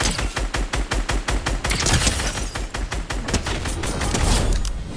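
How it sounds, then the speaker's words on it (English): Rapid gunfire in the Fortnite video game, a fast regular string of sharp shots that blurs into sustained loud firing and noisy blasts, close and dense throughout. "I'm about to shoot this guy."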